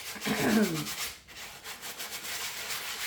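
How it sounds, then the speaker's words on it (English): A scrub brush rubbed back and forth over a dirty purse gives a close, steady scratchy scrubbing, strongest at the start and softer after, with no voice. "I'm just going to scrub it down."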